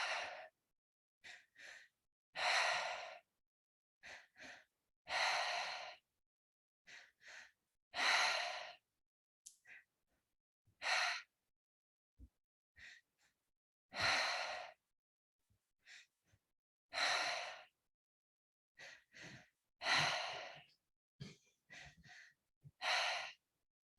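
People breathe in a paced exercise pattern, with loud, even bursts of breath repeating in a steady rhythm and short quiet gaps between them, close and with no talking.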